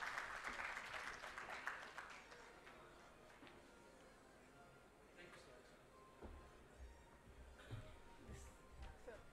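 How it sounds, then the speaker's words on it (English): An audience applauds at the close of a conference session on sustainable product engineering, a faint, spread-out patter of clapping that swells early and thins out, heard from a distance with some murmuring. "Big round of applause, guys."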